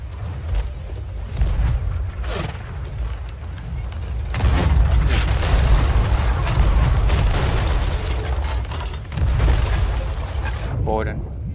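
Cannon fire and impacts against a pirate ship in the Sea of Thieves video game, a sequence of booming hits and creaking wood under steady game noise while players talk.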